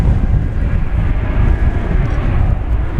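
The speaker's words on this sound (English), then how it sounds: "There you see Viva Aerobus Flight 527 off to Guadalajara on Airbus" An Airbus A340 operated by Viva Aerobus departing from Dallas Fort Worth airport, heard as a loud, steady, deep jet roar with wind noise buffeting the microphone.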